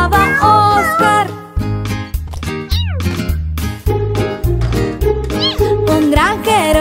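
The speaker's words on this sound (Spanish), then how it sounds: "Un granjero tenía un gato y se llamaba Oscar" Cat meows sound repeatedly within a Spanish-language children's song about a farmer's cat, with sung vocals and bouncy instrumental backing throughout; the meows rise and bend between the musical phrases.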